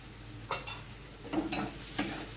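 Ground spices fry in a pan for egg tarka, a soft continuous sizzle with several brief scraping stirs on top and no talk.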